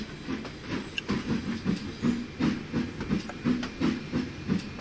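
A train rolls along in the Trainz 2019 railway simulator, its wheels giving a steady clickety-clack rhythm of regular beats over a low hissing rumble, close and continuous with no talk.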